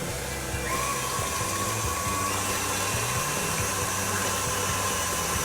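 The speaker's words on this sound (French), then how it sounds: "Je suis un peu fragile du coude, alors j'utilise le robot." An electric stand mixer whirs continuously while mixing a sugar-free batter, a steady close motor drone with a slight shift in pitch early on, heard alone.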